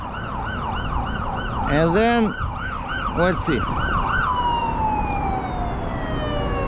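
An ambulance siren wails loudly and close by with a rapid rising-and-falling yelp, broken by air-horn blasts, then settles into a long steady tone that fades as it moves off near a bridge; someone speaks briefly.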